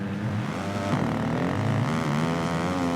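Motocross bike engine from the racing game MXGP 2019, a loud, steady drone with harmonic tones that sag and dip in pitch as the revs fall away, running continuously with no talk over it.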